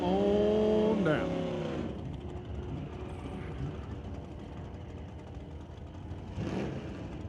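Cars at an NHRA Northwest National Open Series drag race, a Mustang and a pickup in Super Pro, roaring loudly at first and then fading into a steady distant engine drone, with a brief rise near the end.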